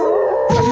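A howl from the animated movie Zootopia, a brief, sustained tonal wail with a bright harmonic pitch, loud and alone, cut off sharply by a burst of noise.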